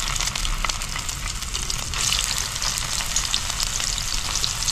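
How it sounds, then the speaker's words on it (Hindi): Soybean chunks fry in hot mustard oil in a pan, making a dense, continuous crackling sizzle that stays close and fairly loud throughout, with no voices. "अब इसको सोयाबीन भी हम थोड़ा तल लेंगे"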